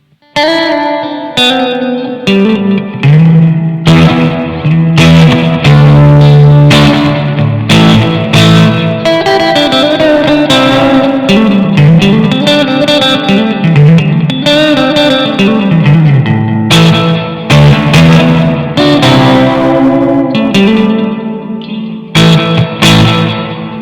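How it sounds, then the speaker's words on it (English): Electric guitar through an overdrive pedal, a Boss Bluesdriver alternative, plays chords and riffs, gritty and sustained with a touch of reverb, loud and continuous throughout. "Really not having to dig in too much to get those distorted tones."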